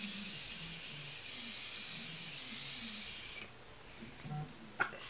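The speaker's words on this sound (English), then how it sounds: "I'm going to use up the last little bit of my Morphe setting spray" A steady spray of Morphe Prep and Set setting spray hisses continuously for several seconds, then stops, followed by a faint click.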